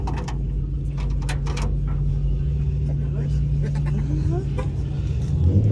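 A modified Nissan 240 revs its engine loudly and close by, a steady low rumble with rising throttle swells and a deeper surge near the end, with faint voices underneath.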